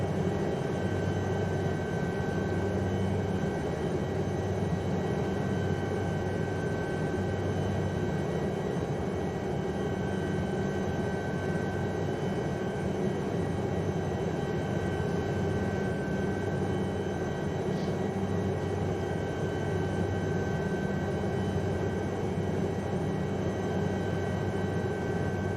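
An SA315B Lama helicopter flying around Mont Blanc, its turbine and rotor droning as a steady, loud, unbroken whine with no voices.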